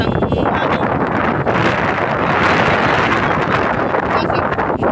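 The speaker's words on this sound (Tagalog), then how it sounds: "Maraming lakas ng hangin." Strong seaside wind in the Philippines during habagat season, buffeting the microphone as a loud, constant roaring rush with gusty swells and low rumbling throughout.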